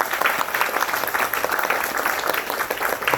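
Audience at a church seminar for newly appointed officers applauds, a dense, steady round of many hands clapping close by that fills the whole moment without any voices.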